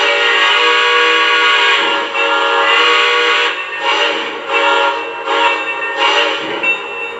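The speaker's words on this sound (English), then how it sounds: "I'm going to go ahead and blow the whistle." A Lionel LEGACY AT&SF 4-8-4 Northern model locomotive sounds its steam whistle in one long, loud, steady blast that breaks into several shorter toots, with no talking.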